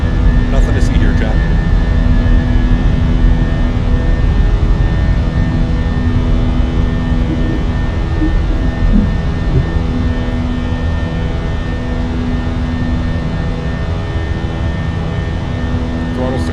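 Fenix A320 IAE jet engines in the flight simulator MSFS hold a loud, steady roar during the climb, with a voice talking over it.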